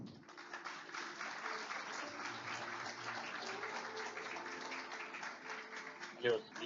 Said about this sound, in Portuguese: vamos recebê-la com uma forte salva de palmas